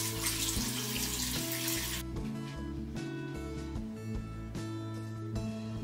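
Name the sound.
water running while washing off a skin care product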